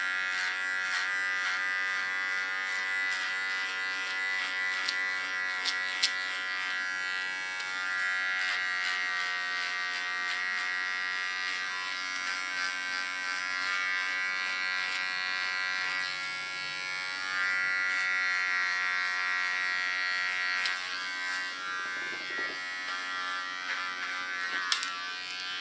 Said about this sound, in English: Don't lean on the clipper, because otherwise you irritate the skin.